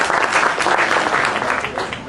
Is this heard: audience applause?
yes